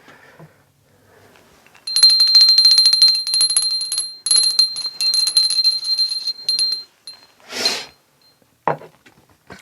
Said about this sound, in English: I'm going to be ringing a bell just to cleanse the space around us.